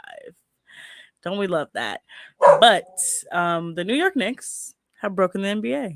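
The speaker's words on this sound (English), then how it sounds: "that's my dog in the background because somebody just decided to let off fireworks" A dog barks in the background late at night, with short yelps and barks partly buried under someone talking close to the microphone.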